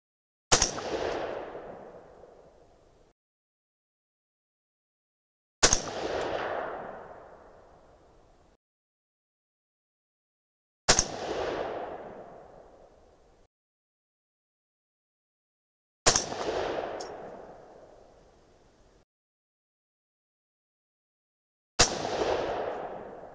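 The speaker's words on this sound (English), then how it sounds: "five more shots in this group" Five 6.5 Creedmoor rifle shots fired with 130-grain Berger AR Hybrid OTM loads over VihtaVuori N555 powder, each a sharp loud crack with a rolling echo, spaced about five seconds apart in silence.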